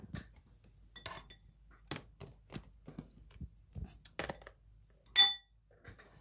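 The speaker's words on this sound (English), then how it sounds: "Excuse my crystals. Sorry. They're clinking around." Crystals clink together in scattered light taps and ticks, with a sharper, brighter clink near the end, faint and close with quiet pauses between.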